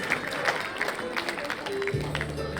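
Parents at a children's school event clap in scattered, moderate applause, with a voice and a sustained tone appearing toward the end.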